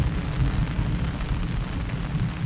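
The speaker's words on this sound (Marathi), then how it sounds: "बघा पाठीमागे गडगडत आहे" Deep thunder rumbles on and on through steady monsoon rain in the Konkan countryside, a continuous low roll under a broad wash of rainfall with no voices.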